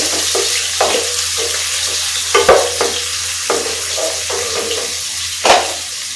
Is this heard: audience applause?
no